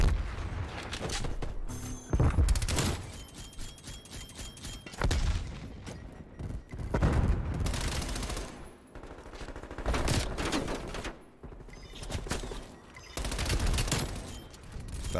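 Rapid bursts of MP5 submachine gun fire in Black Ops Cold War multiplayer, loud and close, repeating in clusters over about fifteen seconds with explosive booms mixed in and no speech.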